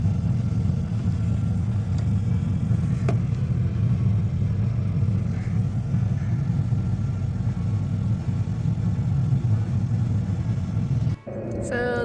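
A diesel heater runs inside a van, a steady low droning rumble holding for about eleven seconds with no talk before it cuts off abruptly near the end.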